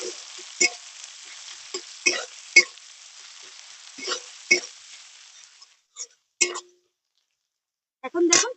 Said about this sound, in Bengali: এবার আমি দিয়ে দেবো এখানটায় কুচানো পেঁয়াজ। পেঁয়াজটাকে একদম লাল লাল করে একটু ভেজে নেবো।